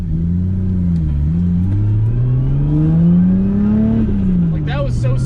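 A Toyota 2JZ engine in a Supra running on E85 revs hard and loud through smooth rising pulls with a steady rumble, close by, with brief chirps near the end.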